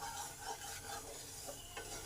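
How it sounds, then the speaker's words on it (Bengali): Semolina, already roasted with cashews, being stirred in a pan, giving soft continuous scraping strokes over a faint dry sizzle. Quiet and close, with no talk. "সুজিটাকে 5 মিনিট ধরে ভালো করে নেড়ে নেব।"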